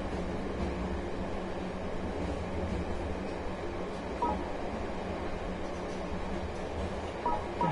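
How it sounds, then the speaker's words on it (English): Train rumbling in the video game Let It Die, a continuous loud low roar with clattering rail noise throughout, plus a couple of faint metallic pings. "But how long does it take for a train to even stop?"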